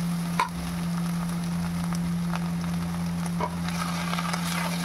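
Grated taro sizzles in a hot pan as it is stirred, a steady frying crackle over a low constant hum, with a few soft scraping stirs at intervals and no talking.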